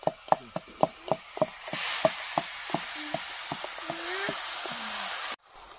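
Boiled cabbage goes into a hot wok and starts to sizzle, with a run of sharp, evenly spaced clicks and taps from stirring over a soft, steady frying hiss. The sound is fairly quiet and ends abruptly.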